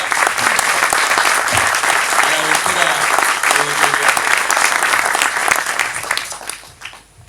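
Loud, sustained audience applause at a presentation event, dense clapping filling the room for several seconds before tapering off, with a voice speaking briefly over it near the end.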